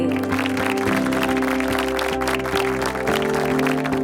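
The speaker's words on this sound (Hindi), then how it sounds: "उनके लिए जोरदार तालियां हो जाए।" Audience applause at a reality singing show, a steady wash of clapping running throughout alongside sustained musical tones from a backing track.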